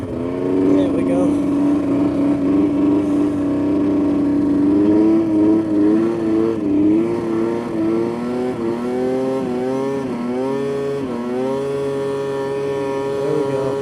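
A Yamaha Vmax 700 triple snowmobile engine revs hard toward 8,000 RPM, its loud, buzzing tone steady, then wavering and climbing toward the end.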